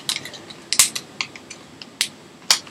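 Paper is creased and folded for an origami ninja star, with a few sharp crinkling snaps and softer rustles spread over a couple of seconds, close and fairly quiet.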